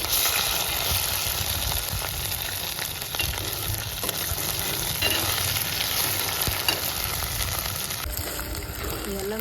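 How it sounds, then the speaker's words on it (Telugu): Ginger garlic paste frying with onions in hot oil for mutton gongura, a continuous close sizzle with occasional stirring scrapes and no speech. "ఈ అల్లం వెల్లుల్లి పచ్చివాసన పోయేంత వరకు బాగా ఫ్రై చేసుకొని"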